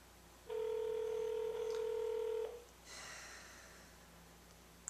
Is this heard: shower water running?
no